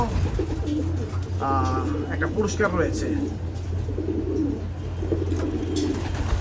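A pigeon gives a short, soft coo amid a low background hum, with a person speaking over and around it.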